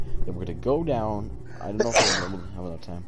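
A single sharp sneeze bursts out midway through, loud and close, between stretches of casual talk during a survival-game session.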